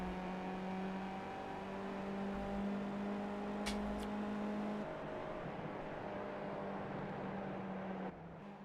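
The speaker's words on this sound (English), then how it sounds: "You can actually hear those cars just touching the rev limiter as they come down into turn number 1." Skip Barber Championship race cars drone through a corner at New Hampshire Motor Speedway. Their engines hold steady, buzzing high-rev tones that briefly touch the rev limiter, then the pitch drops and fades slightly toward the end.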